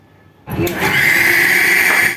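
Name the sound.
electric grinder grinding chutney with curd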